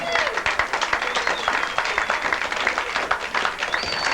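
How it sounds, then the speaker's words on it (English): An audience at an orchid show gives a round of applause, dense steady clapping with a few voices and whoops rising over it. "Let's have a big round of applause for John."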